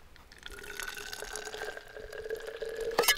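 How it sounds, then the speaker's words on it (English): Water trickles and drips as it is drained back into a water bottle outdoors on a backpacking trip, a soft steady pouring with a rising filling tone, close and fairly quiet, ending with a brief clunk. "I am gonna drain this water back into my water bottle."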